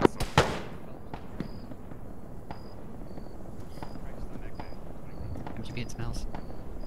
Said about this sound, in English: Mortar, give me continuous fire near the blue EI squad mark, east of Bravo.